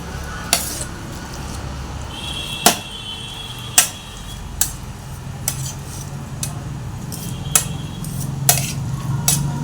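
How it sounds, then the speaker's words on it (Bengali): Boiled potatoes and carrots are mashed for paratha filling, with a utensil striking the bowl in sharp, irregular clinks and knocks roughly every second over a soft background. "আলু আর গাজরটা সেদ্ধ ভালো করে হয়ে গেছে, তো এটাকে ভালো করে একটু চটকে নিই।"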